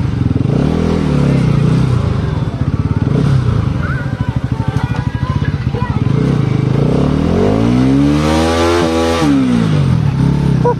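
Sport motorcycle from a lineup of Yamaha R15M, R15 V4, KTM RC125, FZS and RS200 bikes, its engine running loud and close with a rising rev sweep near the end, voices in the background.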